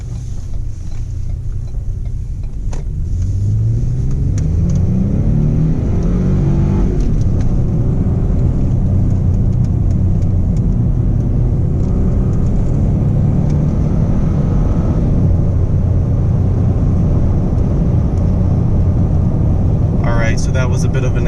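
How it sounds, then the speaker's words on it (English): A 2017 Lincoln Navigator SUV accelerates from a pull-out onto the road, its engine note rising and dropping in steps as gears are shifted manually, heard steadily from inside the cabin with a voice occasionally over it. "that was a bit of an acceleration clip while I was shifting manually with the gear stick"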